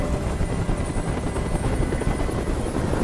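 A helicopter's loud, steady rotor thrum and engine roar fills the whole stretch, close and continuous, with no voices.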